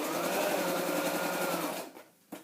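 A sewing machine runs steadily, stitching through a scrapbook page for about two seconds before stopping, followed by a brief click near the end.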